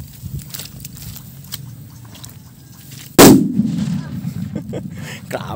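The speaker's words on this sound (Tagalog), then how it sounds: "Ito mga boss pyro, silver salute. Ito, testing natin." A homemade silver salute firecracker detonates in one sharp, very loud blast partway through, after quieter handling noise outdoors, with the boom ringing out and fading into lingering rumble.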